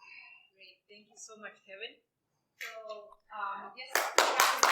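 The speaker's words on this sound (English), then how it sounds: "Applause for Kevin, please." Speech gives way to a sudden burst of clapping from the audience for presenter Kevin after his conference talk on fingerprint scanner security, the claps starting dense and loud in the final second.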